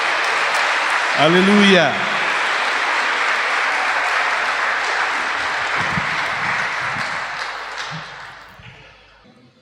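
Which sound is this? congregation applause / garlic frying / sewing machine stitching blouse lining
congregation applause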